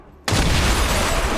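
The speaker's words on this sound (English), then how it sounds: "Loud explosion draws a Lost Swarm closer." A sudden loud explosion in the video game XCOM 2 bursts in after a brief quiet moment, then a sustained rumbling roar fills the remainder.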